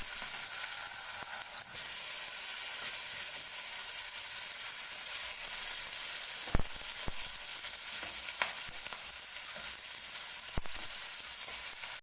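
Tomatoes added to a hot frying pan with cumin seeds and a dried chilli, giving a steady bright sizzle and hiss with a few sharp clicks of stirring, fairly quiet and without talk.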